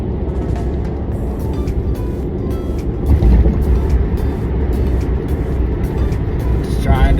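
A car cruising in a straight line on a highway in Nebraska gives a steady, loud engine and road rumble, while someone talks over it throughout.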